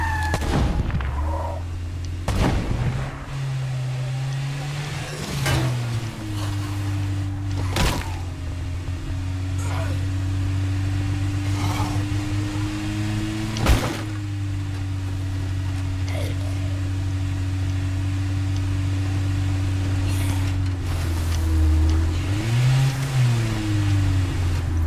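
A car drives in State of Decay 2, its engine hum holding steady and shifting pitch as it moves, broken by sharp thuds and cracks, while people talk over it.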